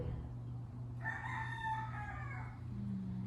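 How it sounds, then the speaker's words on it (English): A rooster crows once, a long bright cock-a-doodle-doo at moderate distance over a low steady background hum. "We have a big rooster that lives next door, and he likes to hop our fence every single morning."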